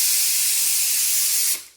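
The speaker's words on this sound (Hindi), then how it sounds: "लौकी काट कर मैंने प्रेशर कुकर में चढ़ा दिया है" A pressure cooker with bottle gourd inside releases steam in a loud, steady, close hiss that runs unbroken and then cuts off abruptly near the end.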